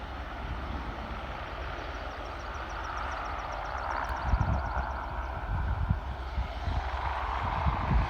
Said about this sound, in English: Now we're going to focus on the helicopter now.